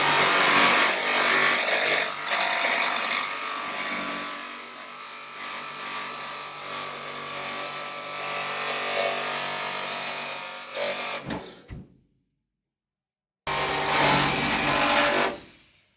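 Jigsaw cutting through the aluminium side panel of a Land Rover Defender, a loud continuous buzzing rasp for about eleven seconds, stopping briefly and then starting again for a short final burst.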